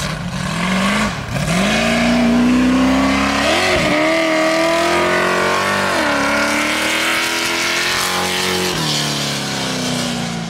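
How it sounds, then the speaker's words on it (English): A 750-horsepower Ultra 4 off-road race car engine revs hard and loud at close range, its pitch climbing and dropping through repeated throttle blips with a continuous roaring growl throughout. "She's gonna love to have a friggin' 750 horsepower off-road Ultra 4 car"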